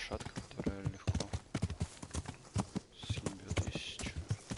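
Horse hooves clip-clop at a walking pace in the medieval game Kingdom Come, a regular run of close hoof strikes under steady talk.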